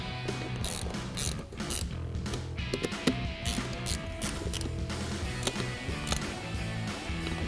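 An 8mm wrench tightens factory bolts on an exhaust bracket for a 2014-2019 Corvette C7 axle-back exhaust, giving repeated quick ratcheting clicks over a steady, low, rhythmic background hum.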